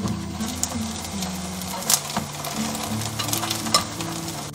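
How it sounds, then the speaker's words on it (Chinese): Rice cakes pan-fry in a little oil over low heat, giving a steady close sizzle with occasional utensil taps and scrapes, no one talking. "平底锅里面我们喷入少许油，然后下入年糕，保持小火煎"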